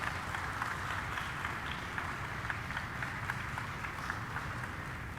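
Congregation clapping during a Spanish-language Sunday Mass in a church, a steady wash of distant applause with a rhythmic pattern, fairly quiet and reverberant.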